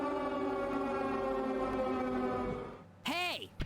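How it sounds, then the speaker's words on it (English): A Purge siren wails in a Resident Evil 2 mod, a long sustained harmonic drone that fades out, followed by a short burst of rising and falling sweeping tones. "Sounds like we have the Purge siren going on right now."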